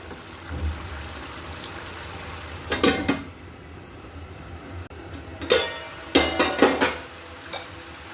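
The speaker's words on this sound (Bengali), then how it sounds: "কোফতাগুলোকে ভালো করে সিদ্ধ করে নিব। এভাবে করে কিন্তু নেড়ে দিতে হবে।" Beef kofta curry simmers on low heat with a soft, steady bubbling, broken by several loud clinks and scrapes of a spoon stirring against the pot.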